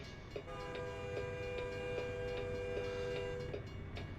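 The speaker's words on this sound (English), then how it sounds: "Amtrak's coming to ruin my day" An Amtrak train in the American Truck Simulator game sounds a long, steady multi-tone horn for several seconds over a rumbling rail background, with regular faint clicks underneath.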